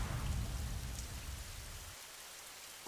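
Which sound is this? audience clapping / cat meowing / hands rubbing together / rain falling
rain falling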